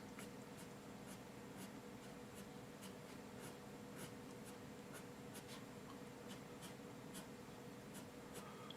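A pencil sketching hair on paper gives a steady, soft scratching hiss with repeated light strokes ticking through it, close up and continuous, with no talking.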